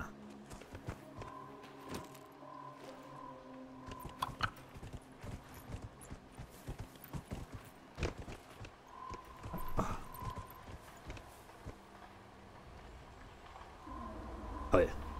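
Horse hooves clip-clop at a steady walking pace in the video game Dragon Age: Inquisition, moderately close, continuing under someone talking in German.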